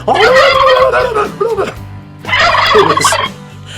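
Loud gobbling from a large flock of about 10,000 turkeys, two rolling waves of overlapping calls separated by a brief lull.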